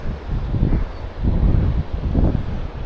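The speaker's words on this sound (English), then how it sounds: "Wind is definitely not ideal." Wind blowing at a clear trout creek, gusting in rough buffeting surges against the microphone, loud and close, with no speech.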